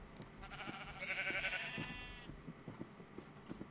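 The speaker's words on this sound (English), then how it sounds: "I've got a huge herd of sheep now." Sheep bleat in Minecraft, a clear wavering bleat rising over faint ambient game noise with soft scattered thumps, no talk over it.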